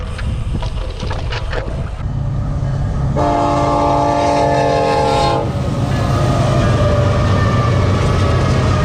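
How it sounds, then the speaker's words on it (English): A loud train horn blares in a long sustained chord for a couple of seconds over the steady rumble and clatter of a passing freight train near a trail in Chino Hills State Park. "there's a freaking freight train coming right towards me"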